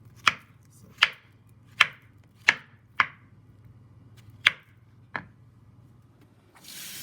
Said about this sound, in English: This is the ripe plantain, so I'm also going to cut it.